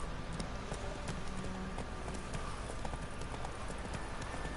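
A horse gallops in The Witcher 3, its hooves beating a steady, rapid clip-clop all the way through over a dense, busy game soundscape.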